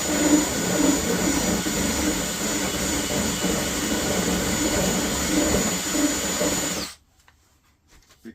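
A rotary tool grinds out a mounting hole to size for an RV touch switch dimmer, a loud steady high-pitched whine holding for about seven seconds before stopping abruptly.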